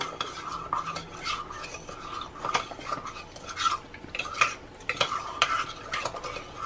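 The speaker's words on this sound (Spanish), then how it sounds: "y lo mezclamos muy bien" A spoon stirs a sugar mixture for Chinese-style beef with broccoli, making repeated close scraping and clinking strokes against the bowl in a quick, uneven rhythm, with faint sizzling behind.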